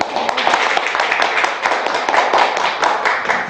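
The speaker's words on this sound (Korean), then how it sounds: "자, 박수." An audience claps together at a presentation: a dense, even patter of many hands, close and fairly loud, lasting a few seconds without talk.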